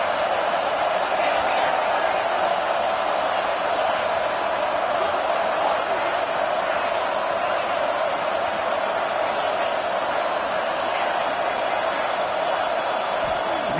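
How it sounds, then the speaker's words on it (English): A stadium crowd in a college football video game, Texas against Georgia, roars steadily as a dense, continuous wash of noise. The cheering holds loud and unbroken throughout, with a commentator's voice faintly present beneath it. "this crowd trying to help keep them there."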